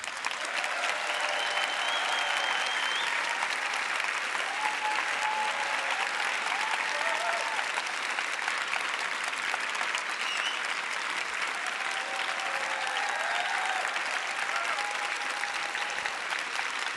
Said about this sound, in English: Please give a big round of applause for Jane Goodall.